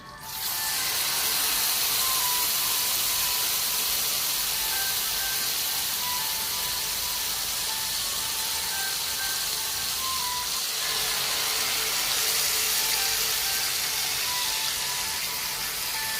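Chicken breast frying in melted butter in a pan on medium flame, a steady loud sizzling hiss that holds for the whole stretch, with faint clinks and no voices.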